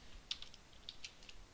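Quick, light keystrokes on a computer keyboard while entering a disk size during a VirtualBox setup for Ubuntu 18.04, an irregular run of faint clicks with no talking.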